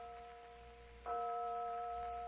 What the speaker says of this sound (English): Just the phantom church bell again.